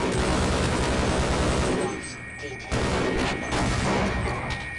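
Grenade rounds fired in the Half-Life shooter, a dense barrage of loud blasts and gunfire with a short lull in the middle before the shots resume, while a voice talks underneath.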